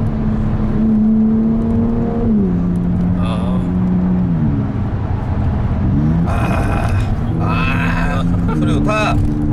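A Mercedes-Benz SLC 43 AMG roadster's exhaust revs hard in a tunnel, its deep droning tone stepping up and down through gear changes, loud and close, echoing.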